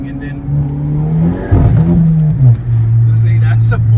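A car engine revs hard and climbs in pitch, drops briefly as if shifting, then holds a loud steady drone, heard close from inside the vehicle with no talk.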